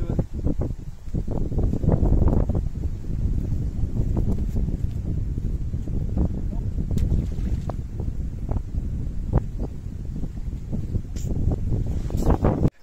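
Strong wind buffets the microphone outdoors beside the water while fishing for bream, a steady low roar with gusty surges throughout and no talk.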